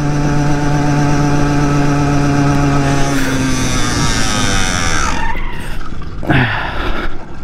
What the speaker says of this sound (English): Motor locked up again.